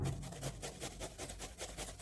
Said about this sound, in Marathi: नंतर आपल्याला सफरचंद किसून घ्यायचं आहे.